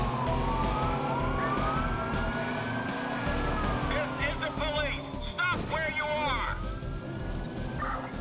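Police sirens wail and sweep up and down in the Watch Dogs video game as cars chase the player through city streets, loud and continuous over engine noise and someone talking.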